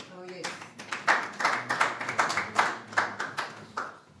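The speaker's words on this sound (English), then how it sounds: "With a warm round of applause, let's welcome Dr." Sparse applause from a small audience at an art exhibition and book launch, a few hands clapping in an irregular rhythm, fairly close and moderately loud.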